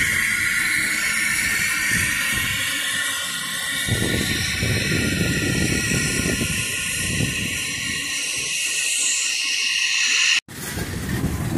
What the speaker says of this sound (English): this is that train that had the carbon dioxide cars on it